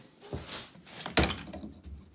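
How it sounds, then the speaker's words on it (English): A side door on a bead blast cabinet swings open with a single short thunk and rattle about a second in, preceded by softer handling noise, close and alone. "So just to show you what the bead blast cabinet looks like, you have a door here on the side."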